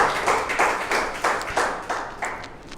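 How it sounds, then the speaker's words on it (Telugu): A church congregation clapping loudly in unison, about eight strong rhythmic claps in quick succession, close and full, with no talking over them. "బిగ్గరగా చప్పట్లు కొడదాం"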